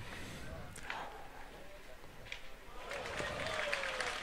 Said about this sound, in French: les applaudissements que vous entendez, c'est la partie de Marco Foyo là qui soulève l'enthousiasme des foules